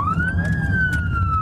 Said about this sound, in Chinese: 警笛声响起，从机场出发，眼睁睁看着泰国警察全程护送